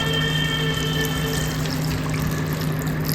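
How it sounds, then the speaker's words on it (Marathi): Steady running water pours continuously into a pressure cooker while making chole, a constant close rushing sound with a faint hum underneath, no voices. "आता आपण ह्याच्यामध्ये पाणी घालूया"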